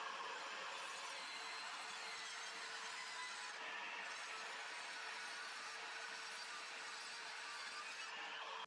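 An Evolution R165CCS-Li cordless circular saw cuts through a bamboo worktop, giving a steady, dense, continuous whine of blade on wood, loud and close, sustained without pause until it stops abruptly at the end.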